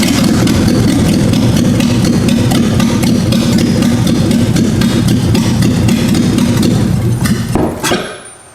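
A Ford Ranger engine runs with its mass airflow sensor unplugged, a steady loud low rumbling idle close by that holds for about seven seconds, then drops away abruptly as the engine stalls and cuts out.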